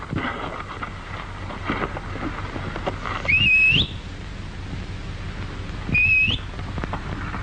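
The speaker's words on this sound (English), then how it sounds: "Don't do you no good to whistle" Two rising whistles, each about half a second, separated by a few seconds, over a steady background rumble like rain.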